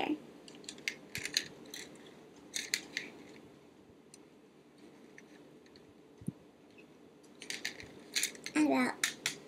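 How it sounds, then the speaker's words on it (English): Wire cutters snipping craft wire for a bunny ear headband, faint scattered clicks and snips at close range, with quiet handling noise and a speaking voice in between. "About right here is where I need to cut my wire."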